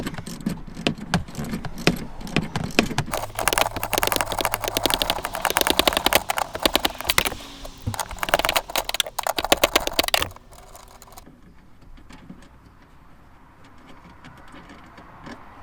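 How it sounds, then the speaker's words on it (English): A 10mm tail light bolt being undone with a socket on a first-generation Mini Cooper: a rapid ratcheting clatter with dense clicks for about ten seconds, then it stops, leaving faint low background noise. "So just use a 10mm socket and get that undone."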